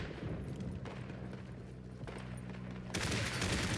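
An artillery barrage fires in the video game Isonzo: faint, distant rumbling volleys roll on steadily, then a louder burst of blasts breaks in near the end.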